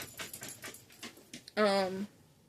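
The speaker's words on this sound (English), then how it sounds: "Oh, there's my dog." A dog gives a single short, loud, whining bark or yelp close by, following a stretch of a person talking.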